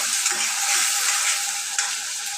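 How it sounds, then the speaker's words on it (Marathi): Chopped onion and tomato sauté in a hot pan for a mixed vegetable dish, giving a steady, close sizzle with a faint scrape of stirring partway through. No one speaks. "तर गाईज आता कांदा टोमॅटो चांगला परतून घ्यायचा"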